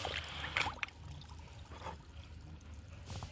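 Water trickling and bubbling as dried cow dung cakes soak in a container while compost is being made at home, a steady faint liquid fizz with a few brief pops, no talk.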